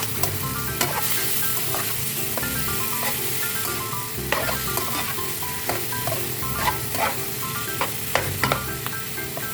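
Pork meat sizzling and frying in a pan, a continuous hot crackling hiss broken by intermittent scrapes and pops as it is stirred, close and fairly loud with no voices.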